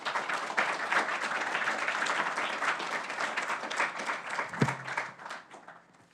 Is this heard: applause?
yes